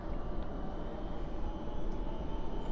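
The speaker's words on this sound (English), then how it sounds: "It just began its pushback at the MD-11." UPS MD-11 cargo jet during pushback at night at DFW airport, a faint, steady distant engine rumble and whine with no talking.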